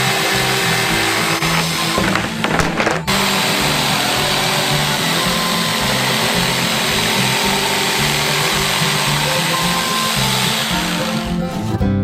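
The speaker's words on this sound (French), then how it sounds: "Il reste à la découper avec une scie sauteuse électrique" Electric jigsaw cutting out a giant Bounty bar shape, a loud, continuous buzzing motor drone that runs steadily without pause from start to finish.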